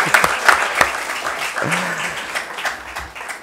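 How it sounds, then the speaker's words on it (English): Audience applause rings out at Asha Parekh's book launch, The Hit Girl, greeting the chief guest; a dense, close burst of clapping with sharper claps early that holds steady for a few seconds. "A big round of applause for him."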